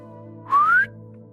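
A bartender gives a single short, clear whistle rising in pitch to call someone over in a bar. It is loud and close, lasting under half a second over a steady low musical drone.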